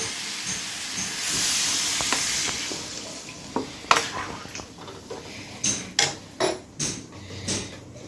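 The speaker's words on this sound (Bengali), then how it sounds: "এরপরে আমি দিয়ে দেবো পরিমাণ মতো জল।" Water poured into a pan of simmering fish curry cooked in oil, giving a steady hiss and sizzle that builds, then a series of sharp bursts and crackles near the end, close and loud with no talk.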